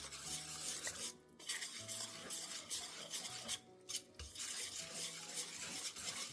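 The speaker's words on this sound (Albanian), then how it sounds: "dhe përzijmë mirë" Muffin batter of flour, baking powder and salt is stirred in a bowl, giving a steady, quiet scraping and swishing with occasional light knocks of the utensil against the bowl.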